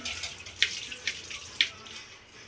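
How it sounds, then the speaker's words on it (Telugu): Tap water runs in a steady hiss while something is rinsed beneath it, with a few sharper splashes and clinks breaking through. "చాలు జ్యోతి, ఎంతసేపు గడుగుతావు?"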